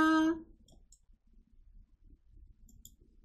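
A computer mouse clicks a few times while working in an Excel spreadsheet, the faint, quiet clicks coming in pairs after a brief electronic tone at the start.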